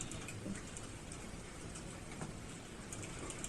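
Steady rain falls outside, a faint, even patter and hiss that continues unbroken through the whole stretch with no voices.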